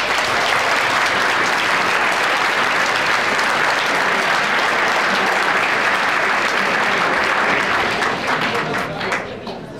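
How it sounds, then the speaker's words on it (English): A big audience round of applause for St. Thomas University at a St. Paul neighborhood honor roll event: loud, dense, sustained clapping that fills the room evenly before tapering slightly at the very end. "A big round of applause for St. Thomas, please."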